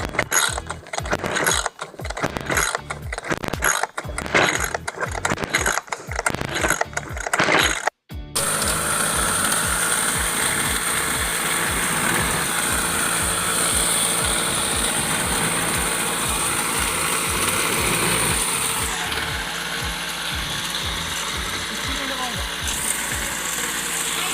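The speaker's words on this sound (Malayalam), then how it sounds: "പമ്പ് ചെയ്ത് കൊടുത്തു. സ്വിച്ച് ഇട്ടു. സ്റ്റാർട്ടാക്കി നോക്കാം." A brushcutter's pull-start is yanked over and over in rough, ratcheting bursts, then the small two-stroke engine catches after refitting of its parts and clutch, running loud and close with a steady buzzing drone.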